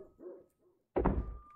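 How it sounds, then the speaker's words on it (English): A dog in a scary video game lets out one sudden, loud bark after a few quiet, low murmurs, then a thin tone hangs on afterward. "Dog."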